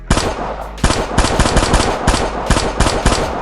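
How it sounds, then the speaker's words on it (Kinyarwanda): A machine gun fires in rapid, loud bursts, with dense repeated shots rattling close up and short gaps between volleys. "twigire mu bipfupfunyuka mu minwa y'imbunda"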